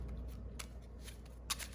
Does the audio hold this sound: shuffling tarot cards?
yes